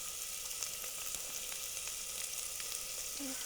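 Minced garlic cooking in a hot pan for pumpkin and bean soup, a faint but steady frying sizzle with light crackles throughout and no voices.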